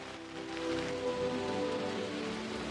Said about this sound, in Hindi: मई के बाद वूयी पर्वतों में लगातार 2 महीने तक बारिश होती है